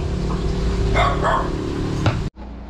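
A dog barks a few times at a cat over a steady low hum, the barks close and fairly loud, ending with an abrupt cut.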